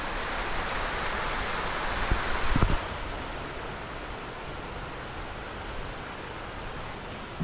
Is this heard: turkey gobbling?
no